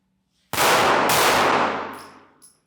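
A single loud gunshot rings out and then a metallic clang off a steel target at a shooting range, with a long fading ring and no talk.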